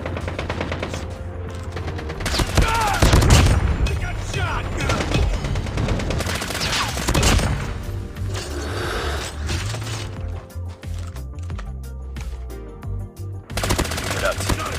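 Automatic M13 rifle fire in COD Mobile ranked battle royale, loud repeated bursts throughout with in-game voice callouts and scattered effects mixed beneath.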